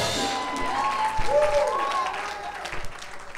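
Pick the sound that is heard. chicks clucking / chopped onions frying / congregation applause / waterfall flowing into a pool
congregation applause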